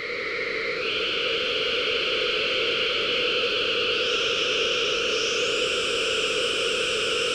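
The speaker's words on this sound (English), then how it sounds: "I'm going to split the incoming white noise, and then I'm going to take separate outputs" White noise split into six separate outputs on a modular synth, a steady hissing wash shaped into several resonant bands that glide and shift in pitch, continuous and alone.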